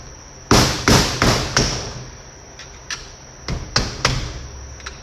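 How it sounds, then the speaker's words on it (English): Rubber mallet strikes a flathead screwdriver wedged into the spring ring of a Honda Talon coil-over, about seven sharp knocks spread unevenly over five seconds, the first few loud and ringing, later ones quieter. "I'm just using a rubber mallet and then a flathead screwdriver"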